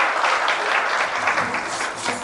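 Dense, loud applause from an award show audience welcomes a TV anchor onto the stage, a continuous clatter of many hands with no voices.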